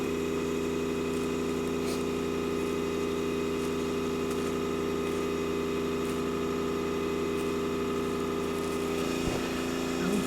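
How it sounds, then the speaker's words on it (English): A small airbrush compressor hums steadily with a constant mechanical drone and faint rattle, close by and unchanging until a brief bump near the end. "Our airbrush is running"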